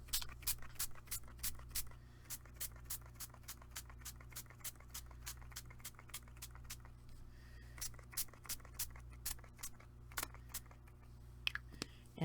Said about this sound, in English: I'm just going to spray the first coat.